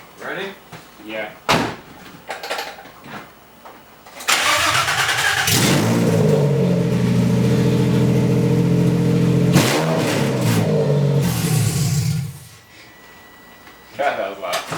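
Nissan 350Z fitted with a RevUp engine cranks, fires and revs hard, a loud sustained roar lasting several seconds with a rise and drop in pitch, with brief voices and clatter before and after.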